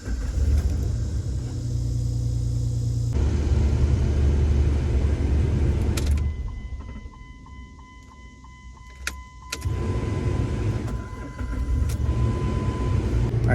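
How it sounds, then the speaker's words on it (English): A Jeep engine fitted with a new MAP sensor and showing rich-running fault codes turns over and starts, then settles into a steady idle after a loud rumbling stretch, with faint clicks and a chime partway through. "I'm gonna go ahead and start the car up"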